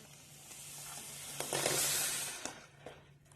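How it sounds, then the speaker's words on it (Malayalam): Chickpea payasam sweetened with jaggery syrup boils in a pot, giving a steady close hiss of bubbling that swells in the middle and eases off, with no talking. "ഇപ്പൊ നമ്മളെ ഈ പായസം നന്നായി തിളച്ചു വരുന്നുണ്ട്"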